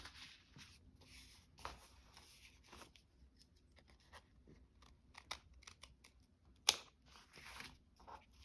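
Scissors snip through paper and scraps for a junk journal, making faint, scattered cuts in a quiet room, with one sharper, louder snip near the end.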